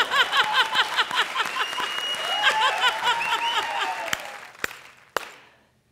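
Studio audience breaks into loud, sustained clapping on a comedy show stage, with scattered cheers and whistles rising over it before a few last claps trail off.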